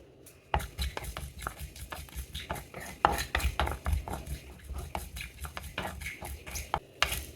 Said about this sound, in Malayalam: ഉലുവയും കടുകും ഒന്ന് മൂത്തിട്ടുണ്ട് ചെറുതായി പൊട്ടുന്ന ശബ്ദം കേൾക്കുന്നുണ്ട്